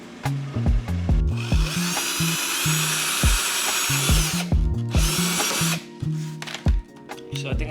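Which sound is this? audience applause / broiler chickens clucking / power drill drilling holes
power drill drilling holes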